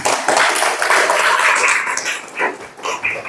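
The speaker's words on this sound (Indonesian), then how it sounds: "beri tepuk tangan dulu untuk kita semua" A classroom of students claps together briefly, a loud, close burst of hand clapping with uneven rhythm lasting a few seconds, voices mixed in.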